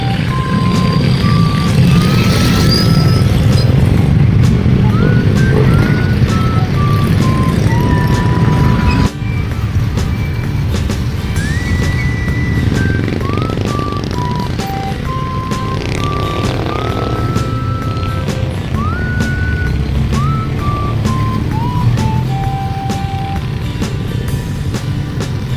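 Road traffic streams across the Aquino Bridge, a loud continuous rumble of trucks and cars with a series of electronic beeps repeating over the constant engine noise.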